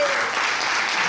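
Steady round of applause from a church congregation during a service, a dense continuous clapping sound that holds evenly through the short moment.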